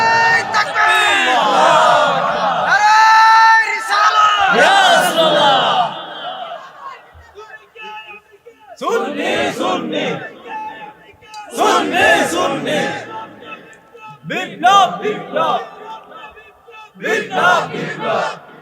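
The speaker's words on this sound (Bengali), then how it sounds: "কারা কারা রাজি আছেন একটা হাত তুলে স্লোগান লন ইনশাআল্লাহ" A crowd raises loud collective chants of religious slogans at a gathering, several bursts of massed voices rising and falling with short pauses between them.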